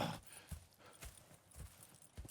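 Horse hooves clip-clop in a steady walking rhythm in Red Dead Redemption 2, fairly faint against a soft ambient background.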